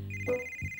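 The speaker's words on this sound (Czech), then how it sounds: "Oh, to je můj telefon." Cartoon mobile phone ringtone in a children's animated building-themed show: a short, bright electronic ring with a steady high tone and pulsing beeps, loud and close, with no talking.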